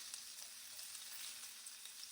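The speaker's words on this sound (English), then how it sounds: "So in go the peppers. I just love to hear the sizzle of things." Faint, steady crackling sizzle of food frying in a hot pan, with small pops scattered throughout and no talking.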